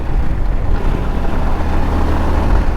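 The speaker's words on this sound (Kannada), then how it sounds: "ನನ್ನ ಗಾಡಿ ಸೌಂಡಿಗೆ ಏನು ಕೇಳಿಸೋದೇ ಇಲ್ಲ ಅಲ್ಲಿ." A car cruises on the highway between Bangalore and Mantralaya, its engine and road noise forming a loud, continuous low rumble from inside the cabin, with no talking.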